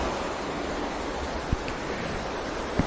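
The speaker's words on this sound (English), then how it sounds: "You can hear the ocean waves." Ocean waves wash in a steady, broadband surf roar that holds constant throughout, with a couple of brief soft knocks and no voices.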